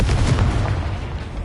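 A Confringo blasting spell explodes in a Harry Potter video game, a loud, dense burst of crackling boom that holds steady for over a second without any voice on top.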